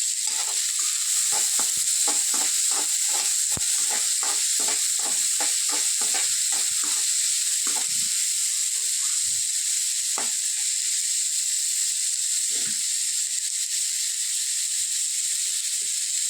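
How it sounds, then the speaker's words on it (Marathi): Onions frying in oil in a pan for kanda poha, a loud steady sizzle throughout with a quick run of spatula clicks and scrapes at the start that thin out to occasional stirs. "कांदा ब्राऊन होईपर्यंत तळून घेऊ आपण मस्त."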